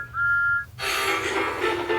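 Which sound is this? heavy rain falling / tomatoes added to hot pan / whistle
whistle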